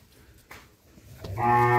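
At a village cattle market, a cow near the listener lets out a single loud, sustained moo. The call starts after a quiet, faint stretch and is still going at the end.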